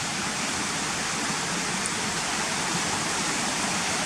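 Broad, steady rushing of a river at a waterfall linn, a continuous loud roar of flowing water close by with no voices.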